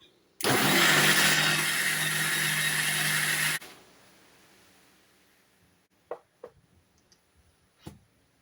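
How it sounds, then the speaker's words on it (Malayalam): An electric mixer grinder whirs loudly for about three seconds, blending cake batter, and then stops, followed by a few light clicks and clatters. "മിക്സിയിലേക്ക് ഇട്ട് അടിക്കാം"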